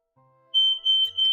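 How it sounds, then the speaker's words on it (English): A fire alarm going off indoors: a piercing high electronic tone sounding in pulses after a brief quieter hum, close and loud, with no speech. "Oh, that is a fire alarm."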